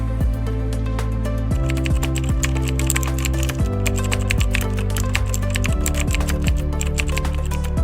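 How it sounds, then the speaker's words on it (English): Rapid typing on a computer keyboard, close and crisp, with a continuous stream of individual key clicks and occasional heavier keystrokes, with no voices. "I kept typing."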